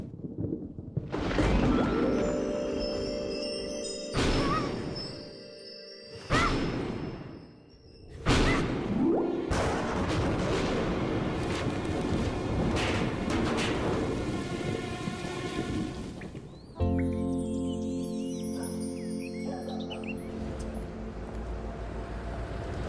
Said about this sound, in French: je crois qu'on va avoir droit à une belle tempête cette nuit